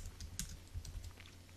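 Quiet typing on a Mac computer keyboard, a quick run of soft key clicks at close range with no voices.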